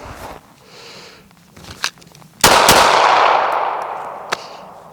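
A Smith & Wesson Bodyguard 2.0 Performance Center pistol fires Hornady personal defense rounds: a few sharp, close cracks, one loud report with a long ringing decay, then another single shot, with faint handling clicks between.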